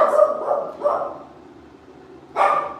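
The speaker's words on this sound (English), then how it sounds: "Not screaming, barking." A dog gives a few short, close barks in a quick cluster, falls quiet, then lets out one more sharp bark.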